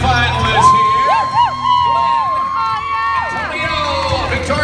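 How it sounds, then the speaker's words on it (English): A crowd at a live stunt show cheers and whoops for the semi-finalists, with an amplified host's voice sweeping over the top of the steady audience noise. "keep your applause going for your semi-finalists here."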